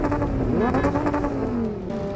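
Car engine revving in PUBG Mobile, a steady game-vehicle drone with rising and falling pitch sweeps as it accelerates, loud and continuous throughout.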